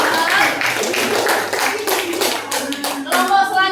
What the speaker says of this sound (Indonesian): Tepuk tangan untuk kelompok diameter.